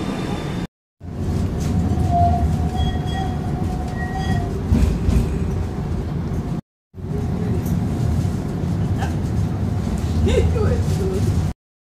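A London tram running on rails near East Croydon, rumbling steadily with occasional squeals from the wheels, close and fairly loud, with a brief break partway through.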